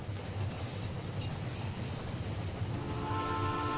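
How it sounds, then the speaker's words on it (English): A train rolls past close to a countryside house in the video game My Summer Car, a steady loud rumble of rail traffic that holds throughout, with a faint squeal rising toward the end. "Oh, there's a train! I can hear it!"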